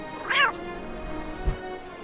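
A cat in the video game Hogwarts Mystery gives one short, clear meow, followed by a faint soft thump and quiet background hum.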